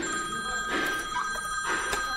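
A mobile phone rings with an incoming call notification set off by a Cardot car SMS alarm's shock sensor, a steady electronic tone with brief bursts over a continuous hum, fairly loud and close.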